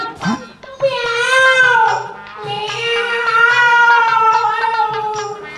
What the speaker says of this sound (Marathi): मांजराचा आवाज जरा वेगळा वाटतोय